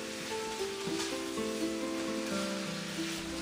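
Shallots and scallions sizzle in a pan while being stirred, giving a steady close frying hiss with faint scraping and clinks, and no talking.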